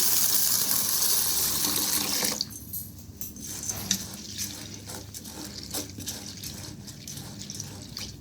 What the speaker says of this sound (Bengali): কলাইটাও ধুয়ে নিচ্ছি।